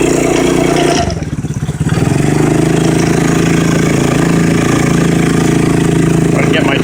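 A 2008 Tao Tao 110 chain-driven small bike engine runs close by, a steady loud idle with a brief dip and revving change early on, then a constant drone.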